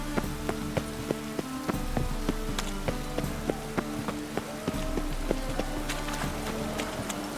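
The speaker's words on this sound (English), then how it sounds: "Looks like rain." Rain falling in The Witcher 3 game, a steady dense patter with sharp scattered drop ticks over a constant low wash and a faint ambient tone.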